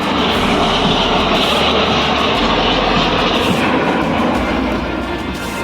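Indian Air Force aircraft flypast over Prayagraj on Air Force Day: a loud, continuous roar of aircraft engines fills the whole stretch, steady and broadband, with no talk over it.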